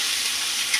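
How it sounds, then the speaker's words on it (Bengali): Kochur loti, taro stolons, frying in a pan, giving a brief steady sizzling hiss at close range with no voices. "এইভাবে মনে করেন 10 মিনিট মতন ধরে ভাজবো"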